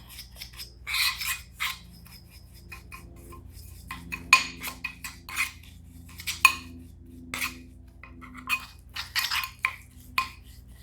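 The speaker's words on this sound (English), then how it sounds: "And then I'm gonna start to mix it up and see what the consistency is looking like." Indian healing clay and aloe vera stirred together in a jar, with a utensil scraping and clinking against the sides in an irregular, close rhythm of short bursts, no talking.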